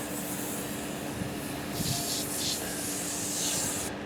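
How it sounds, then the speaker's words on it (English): A hissing spray from a trigger bottle of foaming cleaner, a steady wash of mist with a few puffs at the end. "If I actually spray this on here, you'll see it."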